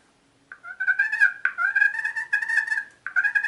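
Soft, rolling purring notes from a turkey call mimic a hen, coming in three drawn-out bursts with short gaps, close and clear.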